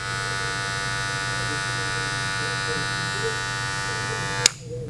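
Wahl Magic Clip cordless hair clippers run with a steady, close, high electric buzz that holds evenly for several seconds, then cuts off abruptly with a click near the end.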